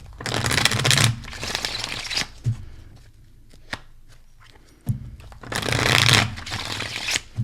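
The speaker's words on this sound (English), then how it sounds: "I'm giving you extra couple shuffles." Tarot cards are shuffled by hand in two brisk riffling bursts separated by a quiet pause with small taps and handling sounds, close and fairly soft, with no speech.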